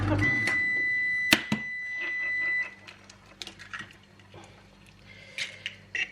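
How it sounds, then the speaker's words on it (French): Microwave oven running while melting butter in a home kitchen, a steady hum with a tonal whine for a few seconds, then it stops with clicks and beeps amid quieter kitchen clatter. "Je suis désolée si vous entendez le micro-ondes, j'ai mon beurre qui est en train de fondre."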